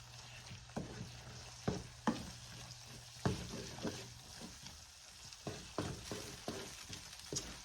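A quarter cup of sherry goes into a pan of French onion soup as it cooks. Quiet sizzling comes with a series of uneven stirring knocks and scrapes, loud and close.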